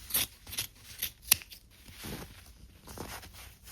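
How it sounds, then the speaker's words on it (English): Scissors snipping off extra fabric along a sleeve seam on thrifted clothing, several short, crisp cuts at an uneven pace, close and fairly quiet. "I'm going to cut off this extra fabric"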